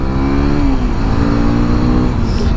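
A Hero Xpulse 210 motorcycle engine revving close by, a loud, steady droning growl with a slight pitch sag partway through, alone without talk.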